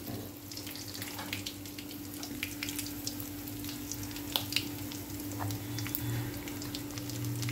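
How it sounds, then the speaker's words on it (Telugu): Chana dal and dried red chillies fry in a pan for curry leaf chutney, giving a steady close sizzle with faint crackles and a low hum underneath, with no talking. "కొంచెం దోరగా వేయించుకున్నాము"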